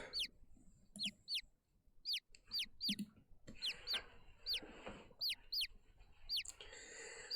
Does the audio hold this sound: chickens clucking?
yes